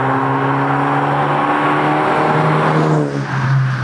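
A Volkswagen Golf GTI MK3 hatchback's engine drones steadily at close range while driving, holding a constant pitch, then briefly dips and picks up again near the end.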